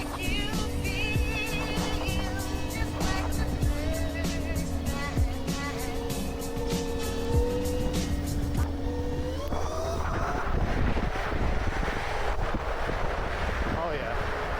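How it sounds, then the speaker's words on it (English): Car traffic rolls past during a ride on a KOOZ MOTOTECH 72V 8000W electric motorcycle, a steady rushing road and engine noise mixed with heavy wind buffeting, with a rider talking intermittently. "A lot of cars out."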